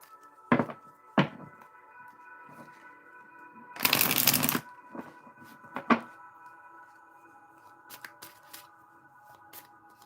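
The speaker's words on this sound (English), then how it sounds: "Pull the cards right off the top" Tarot cards are shuffled and drawn in a quiet room. A few sharp flicks and taps are followed by one longer riffle, and faint background hum runs underneath.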